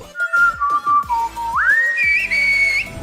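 A person whistles a short, sliding tune, the pitch gliding upward and holding steady notes, close and clear, with a few soft knocks underneath.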